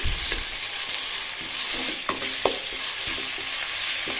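Chopped onion and tomato frying in a pan with salt for carrot-beans fried rice, a steady close sizzle with occasional scrapes and taps of a spoon stirring, no voices.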